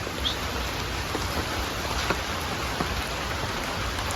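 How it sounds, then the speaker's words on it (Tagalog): Light drizzle of rain outdoors, a soft, steady hiss of fine drops with faint scattered patters, quiet and continuous with no talk. "At medyo umaambon-ambon."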